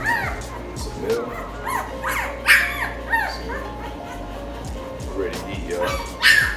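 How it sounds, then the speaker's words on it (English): Two-week-old male American Bully puppy whimpering and yipping in short, high, repeated cries up close, with a person talking throughout. "Puppy number 1, it's a male."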